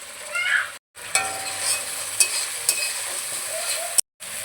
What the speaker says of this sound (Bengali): এবার লবণ হলুদ দিয়ে মশলাটা খুব ভালোভাবে কষিয়ে নেব